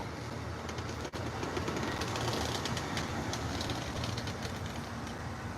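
An Amtrak California Zephyr Superliner passenger train rolls out of the station stop in Ottumwa, Iowa, with a continuous loud rumble and clatter of wheels close by, plus a single brief thump.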